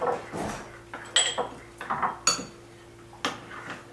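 Salmon, fresh dill and lemon juice stirred together in an Instant Pot insert, a few close clanks and scrapes of a utensil against the metal pot in short irregular bursts, no talk.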